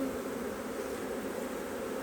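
Honeybees hum at a hive on a honey farm where a colony is being divided, a dense, steady buzz with no voices.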